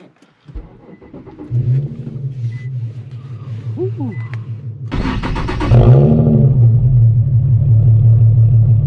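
An Infiniti Q50 engine cranks and fires up into a deep, rumbling idle, then blips louder with a raw, loud straight-pipe exhaust drone; someone whoops briefly.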